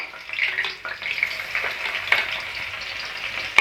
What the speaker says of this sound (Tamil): எண்ணெய் சூடாயிடுச்சு ஃபஸ்ட்டு நம்ம பச்சை மிளகாவை சேர்த்துக்க போகிறோம்